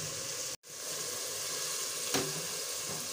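Oil sizzles and hisses steadily in a pan of spice tempering for sarson ka saag, with a brief dropout near the start and a small burst of crackle later as about half a cup of water hits it.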